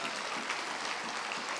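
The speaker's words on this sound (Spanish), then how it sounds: "Un aplauso al Señor." A church congregation applauds during a Spanish-language sermon, a dense, steady clatter of many hands filling the room without a break.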